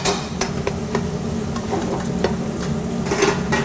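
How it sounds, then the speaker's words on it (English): Thin strips of steak sautéing in a hot pan for a cheesesteak give a steady close sizzle, broken by sharp clicks and scrapes of a spatula stirring the meat, with no talking. "So I saute the meat, and then I put the cheese right on top of it"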